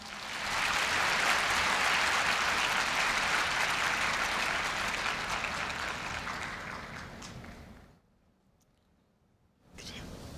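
A large hall of new students and guests at Korea University's 2015 entrance ceremony applauds in a long, dense wave that fades to near silence around eight seconds before clapping briefly resumes.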